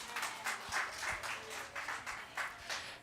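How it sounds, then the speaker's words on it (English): Audience applause for performer Neil Nayyar at a Lunar New Year celebration at a senior services center, steady, fairly faint clapping from a modest crowd with uneven bursts. "So let's give him a round of applause."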